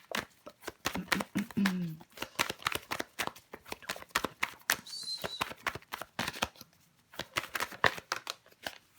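Tarot cards are shuffled, laid down and handled on a table during a reading, giving many quick close slaps and riffles with a soft voice speaking under them at times.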